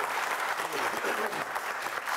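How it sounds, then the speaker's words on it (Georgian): Steady clapping from a group at an informal gathering, a dense patter throughout with voices mixed in underneath. "ეხა შეგიძლია ტაში დაუკრათ"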